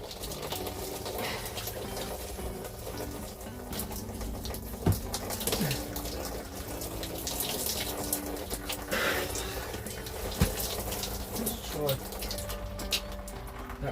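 A JML Pure Shower Plus runs inside a motorhome van, giving a steady close hiss of spraying water throughout with a few brief knocks, while a person talks over it.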